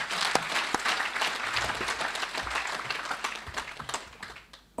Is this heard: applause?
yes